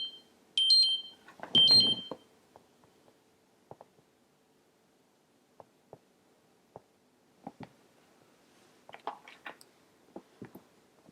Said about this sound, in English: Blood sugar alarm.